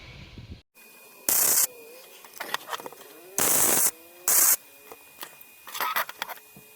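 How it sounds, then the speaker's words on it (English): Welding on a metal car armrest track outdoors, several short bursts of harsh crackling arc about half a second each, separated by quieter clicks and handling noises. "So I know that needs to be welded right there. I head outside and do that."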